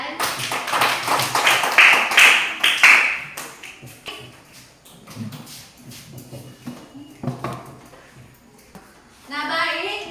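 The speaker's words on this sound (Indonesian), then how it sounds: "tepuk tangan untuk teman kalian" A school class claps for a classmate who has just read a poem: a loose, uneven patter that peaks early and then fades into scattered taps, shuffling and children's voices.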